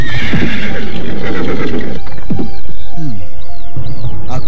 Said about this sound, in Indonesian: Kuda kita tidak sebaik kuda Adi Wulan.